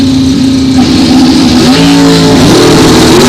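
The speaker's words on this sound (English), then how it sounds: "'74 wheelie for Steve on that one." A drag racing car launches hard down the strip at a bracket nationals event, its engine roaring loud and close throughout, with the pitch climbing in stepped surges as it accelerates away.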